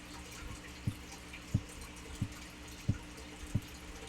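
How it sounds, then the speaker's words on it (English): Water dripping in a surveillance horror video game, five or six distinct drops falling at a slow, roughly even pace, each a soft close plink over a low ambient hum, with no talking. "I like water dripping."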